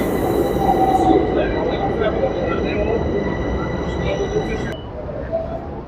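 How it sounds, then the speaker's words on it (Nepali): A metro train pulls into a station with a loud, steady rumble and thin squealing wheel tones that hold throughout, then the noise drops away sharply near the end. "ल आयो हाम्रो मेट्रो आयो है।"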